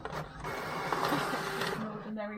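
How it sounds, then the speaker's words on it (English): Ordinary office printer feeding and printing a packing slip on plain paper, a whirring mechanical run with rattling paper feed, close and moderately loud, with some background voice. "because it's an ordinary printer"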